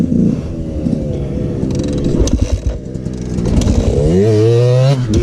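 A KTM enduro motorcycle engine idles roughly with clattering mechanical noise, then revs up sharply near the end, the pitch climbing and holding steady, close and loud.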